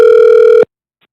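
An unanswered telephone call gives a single loud, steady ring tone that stops abruptly after about half a second, followed by near silence.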